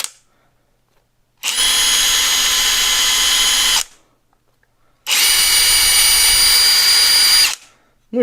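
Cordless impact driver, a Chinese copy of the Makita DTD171, spinning freely at its lowest speed setting in two separate whirring runs of a few seconds each with silence between, loud and close.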